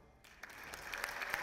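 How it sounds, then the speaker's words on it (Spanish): Audience at a Photoshop creative meetup breaks into applause, which starts after a brief quiet moment and builds into steady, fairly faint clapping with a few sharper claps near the end. "Un aplauso."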